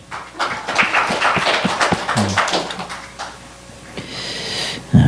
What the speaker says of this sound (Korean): 우리 유성이를 위해서 박수 한번 쳐